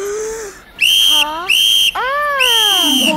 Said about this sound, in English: blow on the whistle three times